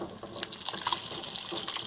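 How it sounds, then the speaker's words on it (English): Hot cooking water from boiled carrots is poured into a tawa, a steady splashing gush lasting a couple of seconds. "So I'm going to use this water and we'll just transfer it in the tawa here."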